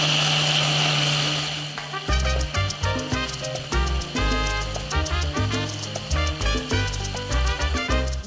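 Blender whirring through a Star Wars blue milk mixture with pineapple juice for about two seconds, a steady dense roar that gives way to rhythmic background music.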